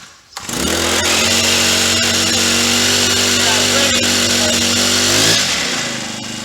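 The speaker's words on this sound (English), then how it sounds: "So now I'm going to try and pull it again, but this time I'll put the choke down." A four-stroke brush cutter engine catches after a pull-start and revs hard and steady at high speed for several seconds, close and loud, then eases back toward idle.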